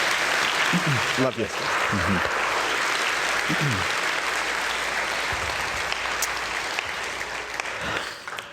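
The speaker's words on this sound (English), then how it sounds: "Let's give Edgar a round of applause." A church congregation applauds continuously as a dense, steady wash of clapping, while a voice speaks briefly over it and the applause thins toward the end.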